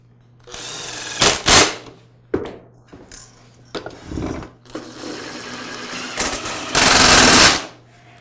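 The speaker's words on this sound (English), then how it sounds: "Now I can reinstall the top and secure it with the screws." Power-driver whirs drive screws into the top of an older KitchenAid Pro Series stand mixer: several short close bursts, then a longer steady buzz near the end, with clicks and handling noise between.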